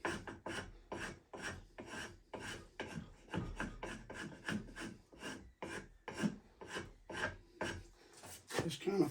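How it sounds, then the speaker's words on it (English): A hand scraper rasps across wood in about twenty quick, evenly spaced strokes, each a short gritty scrape, close and fairly quiet. "Get that scraper in my hand."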